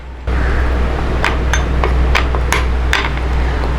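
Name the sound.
mixing tomato and curd face pack in bowl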